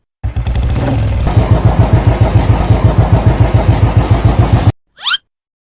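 A motorbike engine for an animated character riding a bike starts with a rev, then idles in a loud, close, steady rhythmic putter of chugging pulses before cutting off, followed by a brief whoosh.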